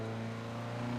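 An MGB-GT engine drones steadily as the car accelerates on the Silverstone race track in third gear, a close, sustained hum with no talk over it.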